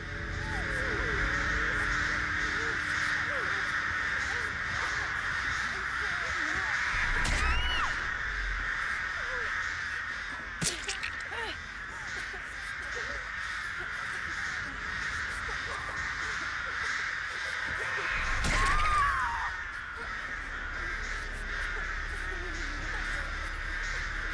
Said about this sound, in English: Place is lousy with crows.